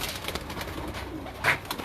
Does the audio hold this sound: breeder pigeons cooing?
yes